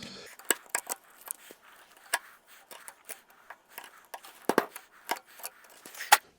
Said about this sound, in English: I'll just clean this hole out with the chisel